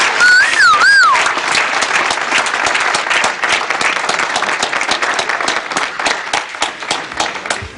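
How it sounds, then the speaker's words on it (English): Loud, sustained applause from a school board meeting audience honoring students, dense clapping throughout with a few whoops or whistles near the start. "So let's give them a round of applause."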